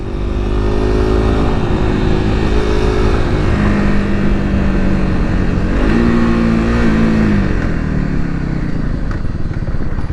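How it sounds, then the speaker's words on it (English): Kawasaki KLX300SM supermoto motorcycle accelerating hard on a road, its single-cylinder engine revving loud and close with rising pitch sweeps through the gears. "stand up on the Supermoto like such, and give her hell, y'all."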